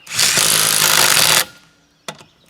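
A SnapFresh compact brushless impact wrench hammers loudly for over a second while removing a lug nut, stops abruptly, then gives a brief second burst after a short pause.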